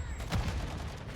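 Gunfire in Call of Duty, a quick cluster of shots with one heavier impact, fairly quiet and brief.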